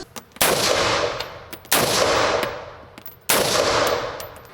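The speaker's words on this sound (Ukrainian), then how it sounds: "Почав стріляти влучно." Three loud gunshots ring out at a shooting range a little over a second apart, each with a sharp crack and a long echoing decay.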